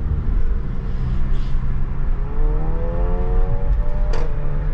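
A car pulls away and accelerates, its engine rising in pitch through the gears with a steady whirring rumble, close and fairly loud, and no one speaking.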